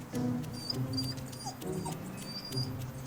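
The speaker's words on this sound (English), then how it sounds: "If the guard dog will let him get rigged up." A guard dog at a truck tow site whimpers and yips in short, high whines close by, over a steady idling rumble in the background.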